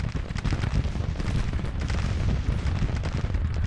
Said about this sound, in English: He's just lighting me up with artillery.